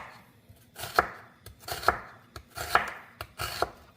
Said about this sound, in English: For the onion, same thing. I'm just gonna cut it into like half moon slices.